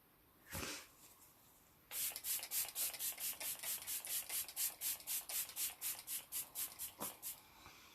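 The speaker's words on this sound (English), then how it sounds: "I've got the L'Oreal Infallible Magic Setting Spray" L'Oreal Infallible Magic Setting Spray hisses out a fine mist in a long run of quick, rhythmic spritzes, close and crisp, after an earlier single puff.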